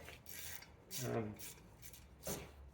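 A wrench loosening a rusty brake caliper carrier bracket bolt on a BMW i3 hub: a few rough, rasping scrapes and grinding turns, close and moderately loud, with a couple of stronger pulls.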